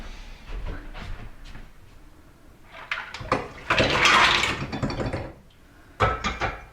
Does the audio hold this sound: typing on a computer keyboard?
no